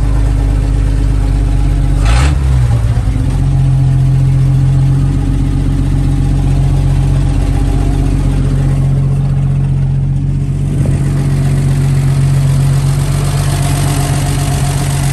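An old 1948 Dodge farm truck engine, running for the first time in over 25 years, idles loudly and steadily close by, with a brief bump early on and no talking.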